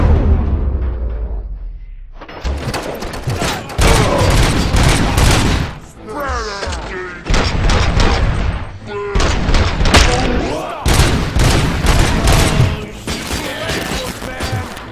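Repeated bursts of gunfire in the video game RoboCop: Rogue City, loud and dense over about thirteen seconds and mixed with booming impacts, while voices speak over the action.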